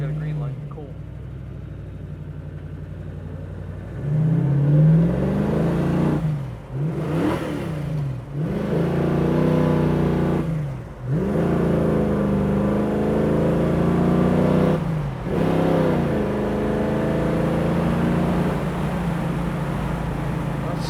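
A 1966 Ford Mustang convertible revs up hard through the gears, engine note climbing then dropping at each shift, loud and close from inside the car, with the driver talking over it.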